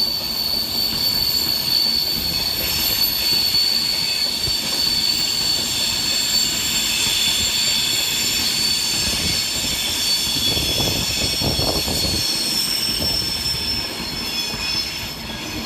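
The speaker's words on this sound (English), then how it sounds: "Avanti West Coast is 390009, working 1 Foxtrot 20 from London Euston to Liverpool Lime Street" An Avanti West Coast Class 390 Pendolino, unit 390009, runs on the far side at Edge Hill station in Liverpool on its way from London Euston to Liverpool Lime Street. Steady loud rolling roar with high wheel squeal throughout, briefly swelling near the end.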